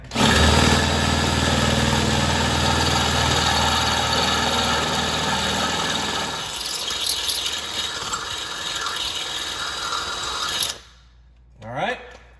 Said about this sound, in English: I've got my drill set up and I've got a 3/8 inch drill bit